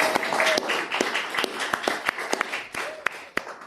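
Comedy-show audience clapping to vote for a comic, with scattered hands and a handful of sharp individual claps over a thin crowd, with some voices mixed in.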